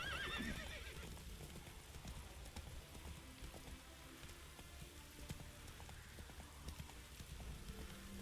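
Hooves of the horse Roach clip-clop in The Witcher 3 video game, a quiet steady patter of steps under a faint rain-like hiss of game ambience, with no talk.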